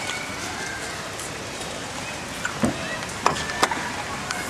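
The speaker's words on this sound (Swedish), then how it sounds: "Oj, vad det regnar." Steady rain pours outdoors in Sweden with a loud, even hiss that fills the scene, broken near the end by a few sharp drip and tap sounds close by.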